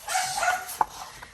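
A dog barks and yips a few times, somewhat distant, with a sharp single bark standing out near the end.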